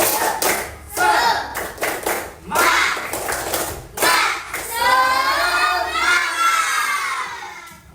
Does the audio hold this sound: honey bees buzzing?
no